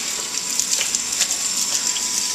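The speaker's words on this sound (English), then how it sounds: "The hydrant is actually in the off position right now, and the water's just pouring" Water gushing steadily from a broken outdoor yard hydrant that is in the off position, a continuous close hiss of pouring water without pause and with no voices.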